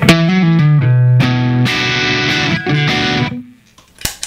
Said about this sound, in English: Just the electric signal with a little bit of distortion here going on.